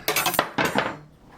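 A small part on a model ship, one of the hoops fitted near the superstructure, knocks loose with a pair of quick, light clinking clatters close by, like small metal pieces tapping on a hard surface, with no one talking.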